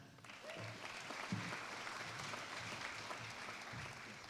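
Audience at a university graduation ceremony applauding graduates, a sustained wash of clapping from a large crowd, moderately distant and even throughout.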